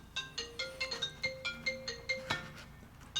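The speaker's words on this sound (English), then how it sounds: "Phone's ringing." A telephone ringtone plays alone in a quiet room, a repeating electronic melodic pattern of short bright tones pulsing evenly, moderately close.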